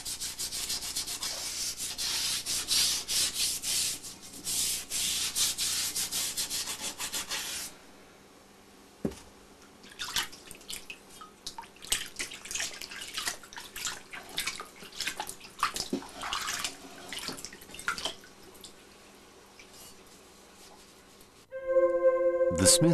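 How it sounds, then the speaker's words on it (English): A Japanese swordsmith scrubs a steel blade with an ash water solution to strip surface oil, giving loud rhythmic rubbing and sloshing, then quieter scattered scrapes and drips, and a sudden final burst. "All surface oil is removed using an ash water solution, and the blade is then dried thoroughly."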